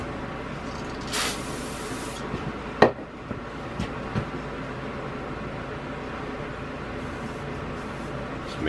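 Brake cleaner is sprayed from an aerosol can to degrease the clutch face of a Planet Jr. HT tractor, a single short hissing burst followed by a few light metallic clinks and taps over a steady background hum.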